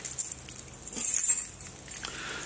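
A bunch of keys jangling on a titanium keychain pocket clip, with light metallic clinks and rattles in irregular bursts, close by and moderately quiet.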